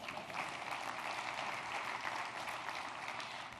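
Convention audience applauding in a large hall, a steady dense wash of many hands clapping at moderate, distant-sounding level throughout.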